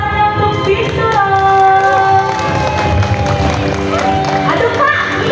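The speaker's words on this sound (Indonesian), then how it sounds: "Boleh kita berikan tepuk tangannya untuk binturong." Crowd cheering and shouting after a binturong appears at a safari park animal show, a steady loud wash of audience voices with children calling out and some clapping throughout.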